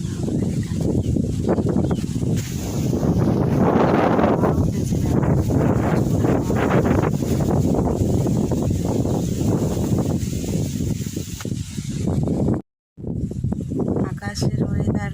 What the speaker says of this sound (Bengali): আকাশের ওয়েদার খুব খারাপ, প্রচুর মেঘ করেছে, হাওয়াও উঠেছে।